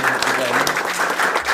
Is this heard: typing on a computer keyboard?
no